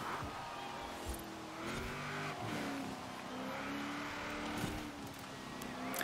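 A racing car engine in the video game Forza Horizon 4 drones steadily throughout, its pitch rising and dipping with throttle and gear changes, with faint tire noise underneath and no talking.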